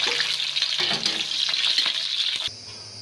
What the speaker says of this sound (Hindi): कढ़ाई में हमने तेल डाल दिया सरसों का, और फिर हमने चीनी देखिए फ्राई करेंगे।